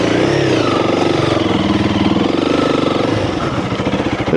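A Honda CRF300L dirt bike engine running hard off road on muddy ground, a loud, close, rough throbbing drone that holds steady and pulses as the revs shift, with no voices over it.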